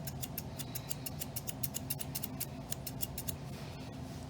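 Grooming scissors snip through an English Springer Spaniel's fur up close, a rapid series of crisp, metallic cuts in quick irregular bursts over a quiet background.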